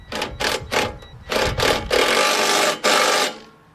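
Ratcheting and clicking of 10 mm and 12 mm wrenches tightening bolts and nuts on a go-kart cage, a series of short metallic bursts, then a longer steady run of clicks that stops abruptly.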